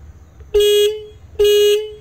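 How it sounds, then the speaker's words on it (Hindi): Horn of a Royal Enfield Classic 350 motorcycle, sounding two loud, steady honks of about a third of a second each with a short gap between, clear and close with no talking. "शुनी इतु आज हॉर्न"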